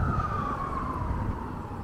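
An emergency vehicle siren wails steadily in British Columbia, its tone gliding slowly downward over a low rumble of city traffic, loud and fairly close without any talk.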